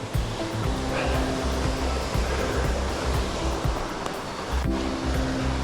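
Brook water rushes over rocks in a steady, loud broadband roar that fills the whole stretch, with no talking over it.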